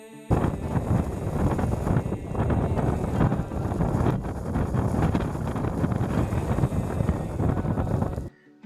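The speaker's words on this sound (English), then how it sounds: "the wind was still strong" Strong wind outdoors at an Everglades camp buffets the microphone in a loud, continuous rumble and roar that lasts several seconds before cutting off abruptly.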